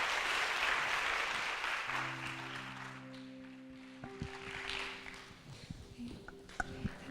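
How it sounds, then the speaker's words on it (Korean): A church congregation claps in warm, dense applause at a Friday worship service. It fades after a couple of seconds, leaving sustained keyboard chords and scattered later claps. "박수하겠습니다"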